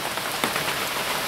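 Steady rain falls on surfaces at dusk at an off-grid property, a dense, even hiss with scattered droplet ticks and no voices.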